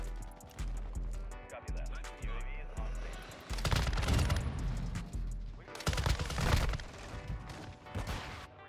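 Raal LMG machine gun fire in Modern Warfare 2, heard as loud sustained automatic bursts with dense rapid shots and booming impacts, a short lull, then heavier fire returning, with game sounds and voices mixed in.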